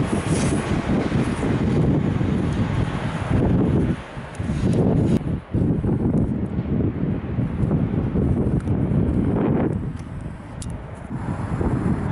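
A train passing through Skierniewice railway station, a loud continuous rumble and rush of wagons close by with brief dips, plus wind buffeting the microphone.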